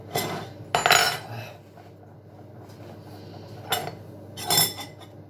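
A small ladle clinks against a pot while borscht is served, with several distinct metallic knocks spread out over a low background hum and no voices.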